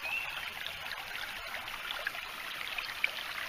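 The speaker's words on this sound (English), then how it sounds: "I gouged out a place in the beaver dam right there where you see the running water" Water running through a gouged opening in a small beaver dam, a steady close trickling and gurgling flow with occasional brighter splashes, no voices.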